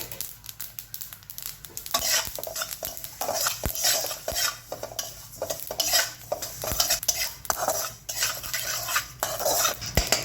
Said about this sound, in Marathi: त्यानंतर टाकणार आहे तीळ गॅस मिडियम ठेवलाय